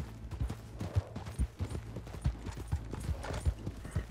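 Horse hooves clip-clop in a steady trotting rhythm in the video game Red Dead Online, close and distinct, with no talking over them.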